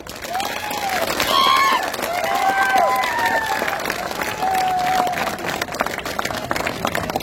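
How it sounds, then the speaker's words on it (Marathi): A crowd at an outdoor political campaign rally in Borgaon claps and cheers loudly, with whistles and shouts mixed in, fading toward the end. "आपण मला पाठिंबा देण्यासाठी हात वर करून टाळ्या वाजवाव्या"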